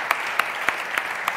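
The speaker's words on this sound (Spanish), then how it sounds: "un aplauso para Manuel Cristóbal" A short burst of scattered clapping at an indoor event: a handful of separate, evenly spaced claps over faint room noise.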